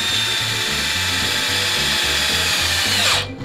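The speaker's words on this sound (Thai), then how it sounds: "สว่านโรตารี่ดีๆมันเจาะแล้วมันนิ่มมันเบามือมากๆเลยนะ" A rotary drill drilling into steel: a power drill whines steadily while a rotary hammer pounds in a fast, regular rhythm, close and loud, before cutting out abruptly.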